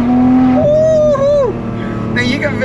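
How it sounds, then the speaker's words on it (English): A Ferrari 599 GTO V12 with its exhaust open, a loud tonal engine note that slides and rises as the revs change, heard close from inside the cabin. "all of a sudden the exhaust is open and that V12 comes to life"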